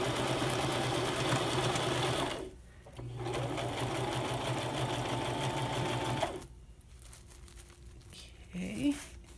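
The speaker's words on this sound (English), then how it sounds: "Once you know what fabrics you're going to use, you just put them on there and sew it." A sewing machine stitches small fabric snippets for iron-on craft pieces, running in steady whirring bursts with two short pauses between runs; a voice speaks near the end.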